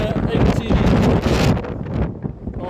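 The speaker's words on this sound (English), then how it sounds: "60-mile-an-hour winds right now" Strong storm wind gusts at night in Blackpool, roughly 60 mph, buffeting the microphone with a loud, continuous roar that surges and eases, with some rattling near a scaffolding setup.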